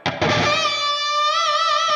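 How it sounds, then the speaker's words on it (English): An electric guitar played through a ToneX ONE pedal with reverb turned all the way up: a distorted chord is struck and rings out loud and sustained, with a shimmering wash. "over here, we can change the amount of reverb. So we can have it all the way"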